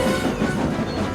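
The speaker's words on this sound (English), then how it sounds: "Henry braked with all his might." A steam train braking: a loud, continuous rolling rumble of wheels on rails, heard briefly and close with no break.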